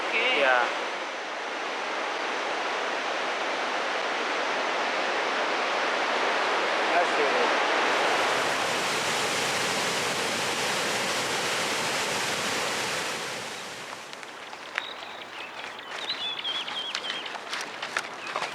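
Small waterfalls on a river in Zambia, a loud continuous rushing roar of falling water that fills the scene, thinning out toward the end as faint clinks and movement come through.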